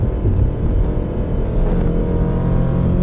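Steady, loud engine drone from a 2017 Toyota 86 under way, a continuous low rumble held throughout with no voices over it.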